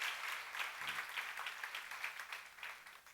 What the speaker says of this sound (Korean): 복인 걸 믿는 사람 빨리 박수 치시기 바랍니다.